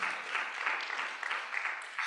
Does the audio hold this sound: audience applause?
yes